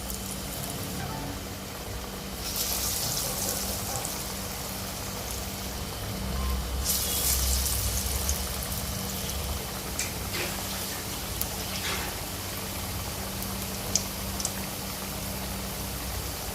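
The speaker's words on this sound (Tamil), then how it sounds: "இப்போது நம்ம ஒரு வடையாக போட்டு எடுத்துக்கலாம்." Vadai batter frying in hot oil, a steady soft sizzle and bubbling with scattered small pops and crackles throughout, close and continuous with no talking.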